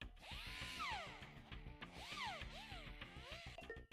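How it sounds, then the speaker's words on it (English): A power drill in a video game whirs in rising and falling electronic sweeps over a dense mechanical hum, loud and close for the full few seconds. "One second, I gotta use my drill on this."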